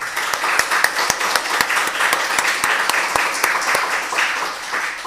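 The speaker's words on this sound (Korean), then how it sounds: "우리 아이들 격려하는 박수 한번 합시다." A church congregation at a Sunday worship service claps to encourage the children, with a few sharp, distinct claps standing out over the steady spread of many hands throughout.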